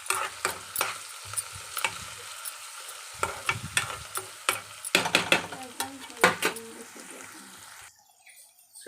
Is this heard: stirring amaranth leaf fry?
yes